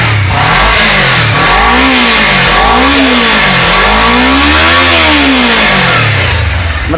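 Honda CBR 250RR motorcycle engine revved hard and loud right up close, rising and falling in repeated throttle blips that scream high before dropping back, with no talk.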